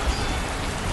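Steady rain falls close by with a dense, unbroken patter on a hard surface. It holds an even level for the whole second, with no voices and no thunder.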